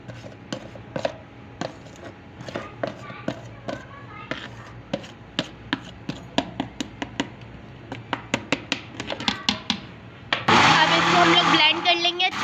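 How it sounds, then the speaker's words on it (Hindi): A kitchen blender whirs loudly, blending yogurt and spices into a thick paste for kadhi pakora, starting abruptly after a series of sharp chopping or tapping knocks. "हम लोग ब्लेंड कर लेंगे अच्छे से।"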